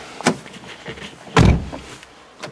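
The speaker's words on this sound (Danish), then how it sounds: "Det er en ny bil. Så man skal ikke smadre døren." A new car's door is shut with one solid thud midway, preceded and followed by lighter clicks and latch sounds, close and fairly loud.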